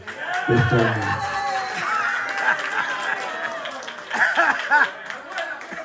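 Women applaud and laugh at a press association event in New York, a mixed crowd of claps and chatter with voices and laughter over it throughout, swelling again near the end.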